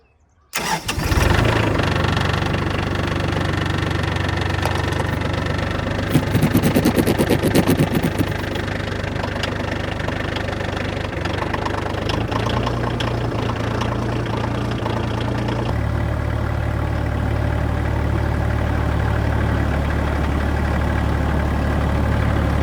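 A cold, wet tractor engine cranks and catches, then settles into a loud, steady diesel-like idle with a rough knocking throb close by, briefly revving mid-way before dropping back to a lower idle.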